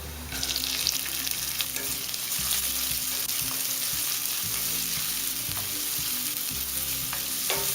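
Onions frying in oil with cumin, chili flakes and green chili, a steady close sizzle throughout with occasional stirring scrapes in the pan.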